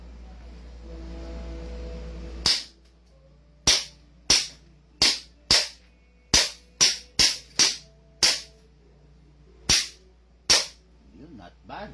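Eleven sharp, loud pistol shots from a CZ Shadow 2 Gray at a shooting range, fired singly in an uneven rhythm with short gaps, after a brief stretch of voices and background noise.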